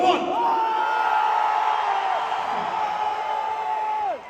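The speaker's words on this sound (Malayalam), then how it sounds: "പുരുഷന്മാർ മാത്രം ഇച്ചിരി ബഹളം" A crowd of men at a live music show in Salalah yells and whoops in one loud, sustained, drawn-out shout that holds steady for about four seconds before cutting off.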